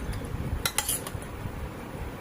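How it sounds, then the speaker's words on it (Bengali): A bowl and plate are set out for a Bengali vegetarian lunch of boiled mung dal, potato and soybean curry, with a few sharp close clinks of dishware over a quiet background. "এটা যা সাজাচ্ছি বাটি প্লেটটা"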